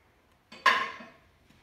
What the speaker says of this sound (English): I'm actually gonna have you stir it a couple times in the flour